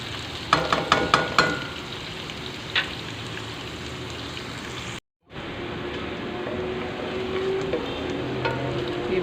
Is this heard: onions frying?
yes